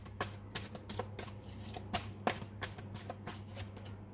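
Tarot cards shuffled for a reading, soft papery flicks and taps in a loose uneven rhythm, close but fairly quiet over a faint low hum, with no one speaking.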